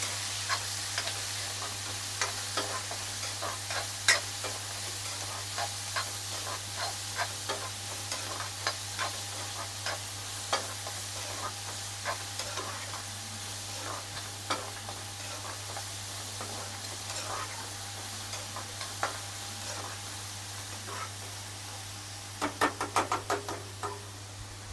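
Onion, tomato and curry leaves are sautéed in a pan for sambar. A spoon scrapes and knocks against the pan in an irregular rhythm over a continuous soft sizzle, with a cluster of quicker taps near the end.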